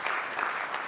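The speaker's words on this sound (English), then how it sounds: "A round of applause for her." Audience applause at a Polaris Bank launch event, a steady wash of clapping from a crowd for a bank executive, lasting about a second.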